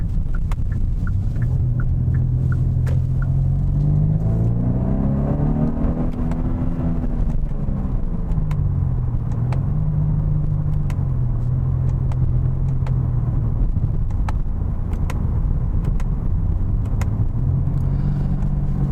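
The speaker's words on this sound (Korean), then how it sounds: "자, 이제 패드 시프트를 이용해서 변속을 한번 해보겠습니다." Engine of a 2020 Kia K5 1.6T turbo under paddle-shifted gear changes, a loud cabin drone whose pitch climbs, drops and climbs again with each shift, with faint clicks throughout and no talking.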